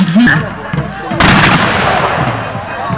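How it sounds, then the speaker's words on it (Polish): Heavy cannon blasts boom one after another at a battle reenactment at Koźle Fortress, a sudden loud burst midway giving way to a sustained roaring rumble of gunfire. "Kolejne wybuchy z kozielskich armat."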